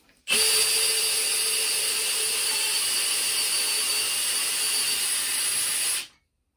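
A Makita DTD153 cordless impact driver runs for about six seconds in one steady, loud, high-pitched whir that starts abruptly and cuts off cleanly, with no talk.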